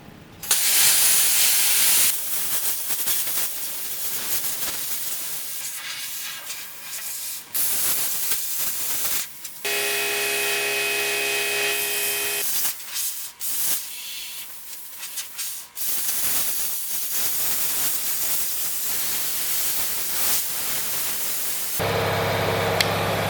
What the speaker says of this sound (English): I'm going to let the plasma cutter cool down a little bit.